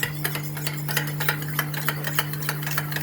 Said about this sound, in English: we will still keep on mixing it